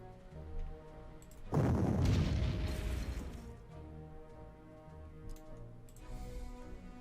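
Artillery fire in the Panzer Corps strategy game: a heavy boom erupts and rumbles for a couple of seconds, then fades into a steady game background with light ticking and a faint later swell.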